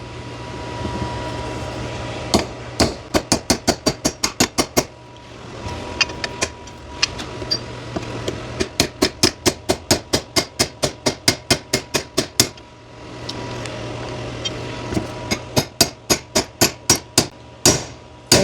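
Hammer strikes drive a tight bushing into an upper car door hinge, sharp metallic blows in rapid bursts of several hits with short pauses between, close and loud over a steady low hum.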